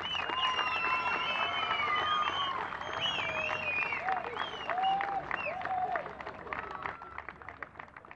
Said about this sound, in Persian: خوب تشویق بکنین